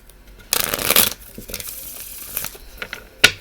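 A deck of Soul Truth oracle cards is shuffled and handled up close, with a loud riffling burst followed by softer shuffles, taps and a final sharp card snap.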